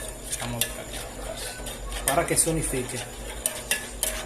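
A spoon stirs a sauce in a pan with faint sizzling, giving soft scrapes and occasional light clinks against the metal, close but fairly quiet.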